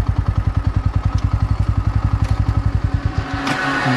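A 2024 Bajaj Pulsar NS 125, a 125cc motorcycle, rides in second gear: a loud, close, rapid and regular engine thump that stumbles and fades into a rougher, uneven rumble near the end.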